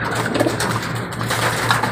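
Soft cooing from pigeons drinking water and faint bird sounds over a steady background hum, with no one talking.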